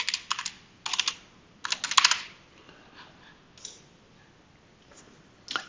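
Quick bursts of computer keyboard typing as a folder name is entered, short clustered clicks separated by pauses, with a few isolated taps near the end, close and clear.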